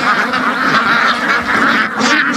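A flock of about a thousand ducks brought in to graze down weeds quacks and honks together nearby, a loud, continuous overlapping chatter of many birds with no pauses.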